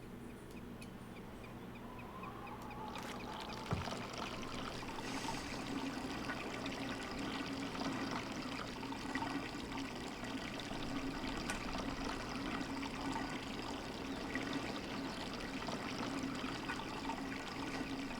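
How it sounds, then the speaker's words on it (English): A faint, steady trickle of water runs continuously in the game Riven, quiet and ambient, with a brief soft clunk early on and no voices. "I think it's just water."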